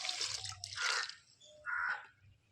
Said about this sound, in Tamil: ஒரு சிறிய அன்னக்குடையில் ஒரு அரை கப்பு தண்ணி ஊற்றிக்கலாம்